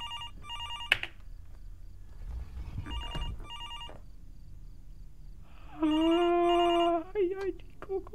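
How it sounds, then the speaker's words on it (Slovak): Telephone ringing in a motel inside the horror game Fears to Fathom: repeated electronic ring bursts with gaps between them, followed by a long sustained tone and a few chirps near the end, fairly loud and heard alone. "Takže ten telefón funguje."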